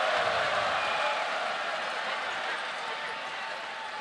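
A large basketball arena crowd in Chongqing roars in a dense, continuous wash of cheering that stays loud throughout and eases slightly toward the end, with no clear voices standing out.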